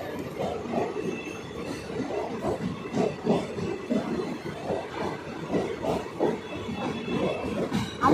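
An express train crossing a bridge rumbles past close by, with a steady, heavy roll, rhythmic wheel clatter and a faint squeal from the wheels throughout.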